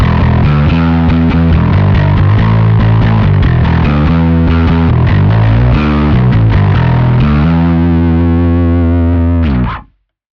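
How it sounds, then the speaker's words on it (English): Bass guitar played through a filter pedal pushed all the way up into heavy fuzz distortion, loud and sustained with buzzy, saturated notes and chord-like phrases, ending abruptly. "it just turns into a complete fuzz pedal otherwise"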